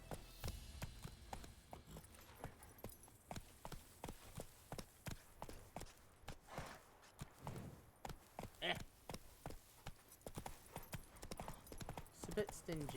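Roach the horse gallops in The Witcher 3, hooves clip-clopping in a quick, regular rhythm, fairly faint, with voices talking over it at times.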